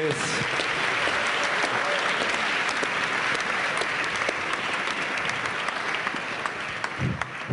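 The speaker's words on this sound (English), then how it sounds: "And give an applause to Jimmy" A crowd applauds steadily and loudly, a dense wash of clapping that holds throughout before thinning slightly at the end.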